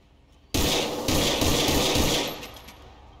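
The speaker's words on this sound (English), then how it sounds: "that's a guy outside shooting at the same exact time" Sustained gunfire from a shootout in GTA 5, a loud burst of rapid automatic shots that starts abruptly, rattles on for nearly two seconds, then tapers off, with no talking over it.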